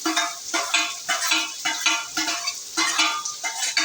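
Onions tipped into hot oil already crackling with mustard and cumin seeds, a close sizzle and spatter with rhythmic bursts as they are stirred, no voices heard.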